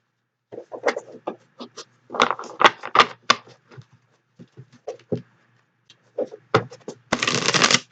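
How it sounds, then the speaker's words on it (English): Crisp, rapid riffling of tarot cards being shuffled in repeated bursts, close and loud with short pauses between. "We're going to shuffle."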